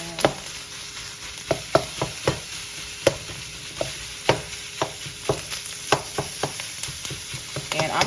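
One pound of ground beef frying in a pan for sloppy joes, a soft continuous sizzle broken by sharp scraping and stirring knocks of a utensil against the pan, close and fairly loud.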